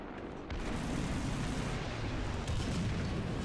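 Tank cannon fire in the War Thunder video game, with British Churchill and Firefly tanks, produces two heavy booms a couple of seconds apart, each followed by a loud, rumbling roar of battle noise.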